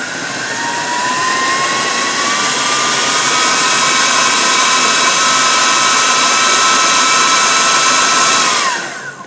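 Food processor blending hummus with chickpeas and garlic, a loud continuous whirring motor drone with a rising whine that holds steady for several seconds, then winds down as it is switched off.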